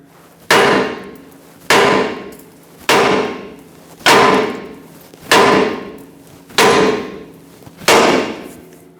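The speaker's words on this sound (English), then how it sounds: "grab a large hammer, tap right here, and that should separate the stud from the pitman arm" Seven evenly spaced, loud metallic hammer strikes ring out alone, each with a short decaying clang, as a large hammer taps a steering linkage to separate the drag link stud from the pitman arm on a Ford E-350 van.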